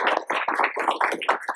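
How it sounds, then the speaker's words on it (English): Guests at a 25th wedding anniversary party give a round of applause, several close, loud claps in uneven bursts with no speech over them. "Let's have one more round of applause for"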